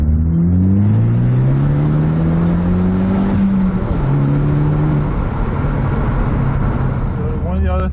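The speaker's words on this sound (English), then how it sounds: "I'll give you guys a little taste of the exhaust." A Ford Focus ST's engine revs up through its exhaust, a deep droning roar rising and falling in pitch, loud and close, steady for several seconds.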